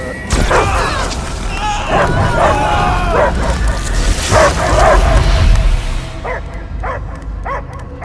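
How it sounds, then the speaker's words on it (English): Dog barking in the video game Guardians of the Galaxy, repeated loud barks and yips amid booming game sounds and music, with some speech-like voice mixed in. "I hear only barking."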